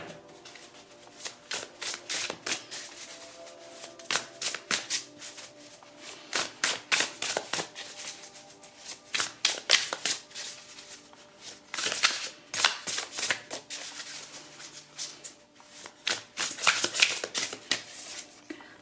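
Tarot cards shuffled by hand in repeated bursts of crisp riffling and flicking, close and fairly soft, with short pauses between passes and no talking.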